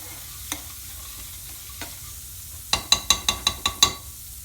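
Garlic and ginger paste frying in a pan, a steady low sizzle broken by a few metal spoon knocks early on, then a quick run of about seven sharp ringing clanks as it is stirred.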